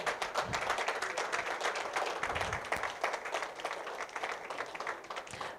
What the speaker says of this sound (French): On ne va pas cesser d'applaudir cette entrée officielle des lauréats.